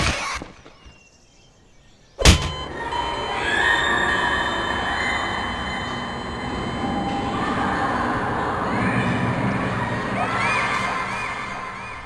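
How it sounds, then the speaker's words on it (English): Half-Life 2 game sound effects, a shrill squeal followed by a playground memory ambience of distant children shouting under a rumbling, train-like wash, sudden and loud after a quiet start. "those two noises you heard are both sounds from Half-Life 2"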